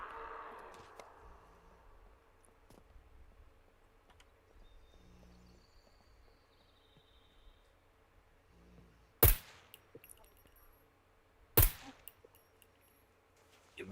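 Two sharp, loud Kar98 rifle shots from the video game SCUM crack a couple of seconds apart over a quiet background, each with a brief echoing tail.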